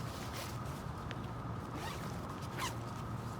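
Zipper on the side of a Teton Grand 5500 backpack being pulled open, a continuous close rasping zip under a steady background hum, with brief brighter scrapes along the way.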